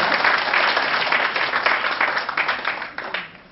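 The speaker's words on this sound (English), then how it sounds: "allow me to ask you to clap for yourselves," An audience at a public procurement forum claps for itself, a steady, fairly loud burst of many hands that thins out toward the end.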